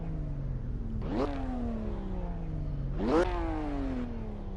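Car engine in Assetto Corsa revving twice, each time climbing sharply in pitch and then sagging slowly back toward idle, loud and close with no talk over it.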